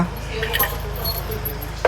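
A car key jangles on its ring as it is turned in the ignition to the accessory position, light metallic clinks near and close with a voice talking alongside.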